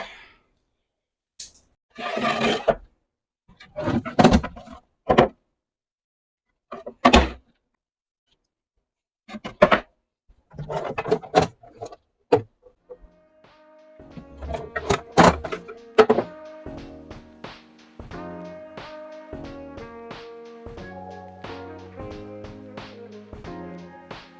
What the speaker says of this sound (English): Next, I'll just take out and label all these drawers.